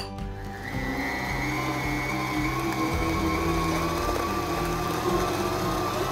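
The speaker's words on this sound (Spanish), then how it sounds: "400 gramos de azúcar y vamos a batir" Electric mixer steadily beating cream cheese with 400 grams of sugar for a Basque cheesecake, a continuous mechanical whir with rattling gear tones, close and even throughout with no talking.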